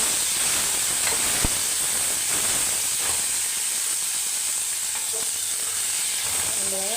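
Tomatoes fry in a pan with a dense, steady sizzle and steam hiss that runs unbroken throughout, loud and close, with a few faint clinks of stirring.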